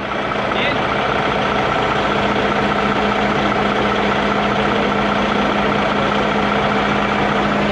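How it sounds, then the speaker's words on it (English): A tractor engine idles while pulling during a vehicle recovery, a steady low, loud diesel rumble holding evenly throughout. "Go ahead and pull your tractor up."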